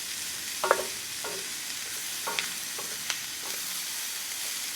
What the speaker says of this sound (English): put that cabbage on down in there like that. Let that sweat on down.